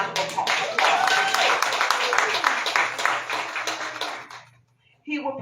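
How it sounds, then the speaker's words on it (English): An audience claps and applauds for guest timekeeper Anthony Marshall at a political forum, a steady round of clapping that fades out before a voice resumes. "let's give him a big round of applause"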